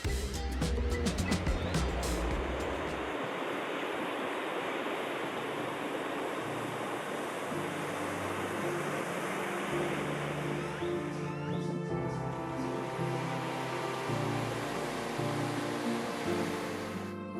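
Ocean waves breaking on a Pacific beach in Chiapas, a broad continuous roar of surf rising and falling, loud and near with no talk over it.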